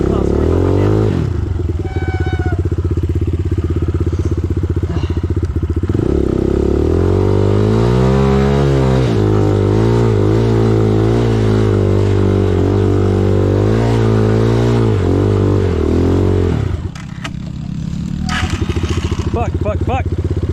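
An enduro motorcycle engine revs loudly up close while riding in the rain, its pitch rising and sweeping through several long climbs before dropping off near the end. A rider's voice is heard at times over the engine.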